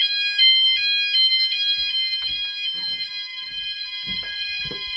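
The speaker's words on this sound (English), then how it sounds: "All the other sounders are going off as well." Several E.M.S. FirePoint 5004 fire alarm sounders wail together in a steady, piercing tone, with bursts of clatter and rumble underneath; no talking.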